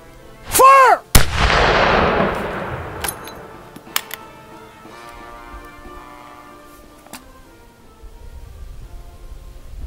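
A volley from Martini-Henry Mk I rifles fires as one loud, sharp crack at close range. A long decaying echo rolls after it, with a few scattered clicks and a second shot-like impulse following.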